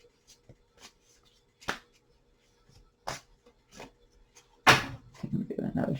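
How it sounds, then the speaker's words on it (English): Tarot cards being shuffled by hand, with scattered soft taps and flicks followed by a louder, brisk riffle near the end, close and alone without speech. "Do another shuffle and then fan these out."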